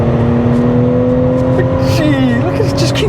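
Supercharged V6 Mercedes-Benz C32 AMG pulls hard under acceleration on the road, a loud sustained engine drone with rising whine, heard from inside the car while people talk over it.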